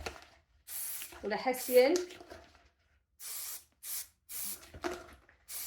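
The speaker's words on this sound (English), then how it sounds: "we'll spray the glue all over the pot" Glue from an aerosol can is sprayed onto a plant pot before hessian is wrapped on, giving several short, close hissing bursts with pauses between them after someone speaks briefly.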